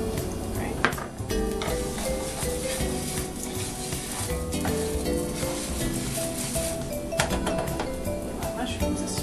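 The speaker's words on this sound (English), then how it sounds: "My mushrooms are stirred. Looks like they're cooking down pretty good." Mushrooms for risotto sizzle in a pan, with a spoon stirring and clinking against the metal at irregular moments, close by, while a person talks over the cooking.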